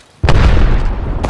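An arc star grenade detonates in a ranked-mode video game match, a sudden loud boom with a broad crackling burst that rumbles on for about a second, followed by a second sharp pop near the end.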